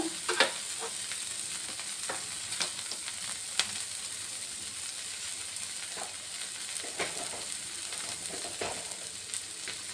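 Ingredients fry in a pan on a gas stove for a sauce served with chapati and puri: a constant close sizzle broken by irregular clinks and scrapes of stirring, and no one speaks.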